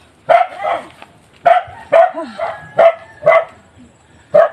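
A dog barks repeatedly in short, sharp bursts, about six barks spaced roughly half a second apart, fairly close and loud, on a mountain path.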